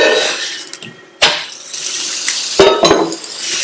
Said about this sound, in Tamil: இப்ப மேல கொஞ்சமா எண்ணெய் சேர்த்துட்டு நல்லா ஸ்ப்ரெட் பண்ணி விட்டுட்டு திருப்பி போட்டுக்கலாம்.